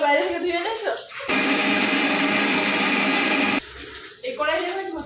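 A kitchen mixer grinder running loud and steady for a couple of seconds with a high whirring drone, while people talk before and after.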